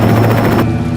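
Helicopter rotor drone from a chopper arriving in Terminator Dark Fate Defiance, a steady loud whir with a low thumping hum that holds, then thins slightly near the end, heard alone.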